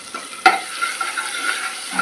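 Ginger-garlic paste sautés in a pan alongside whole spices with a soft, steady sizzle, broken by a sharp clink and scrape of a spoon near the start and lighter stirring scrapes afterward, with no one speaking.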